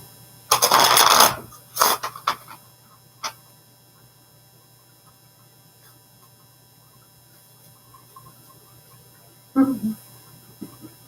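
Small oracle cards shuffled in a short, close riffling burst, followed by a few soft card taps and another brief shuffle later in an otherwise quiet room.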